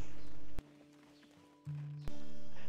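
Horse hooves in the online game Black Desert Online clip-clop softly in a short run over a steady low hum, with a sharp loud cut at the start and end.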